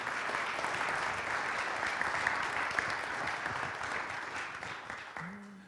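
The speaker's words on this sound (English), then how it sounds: "A big hand of applause for Tom and for everything he did" Church congregation at a meeting gives a sustained round of applause for Tom, a steady wash of many hands clapping from a moderate distance that fades near the end as a voice begins to speak.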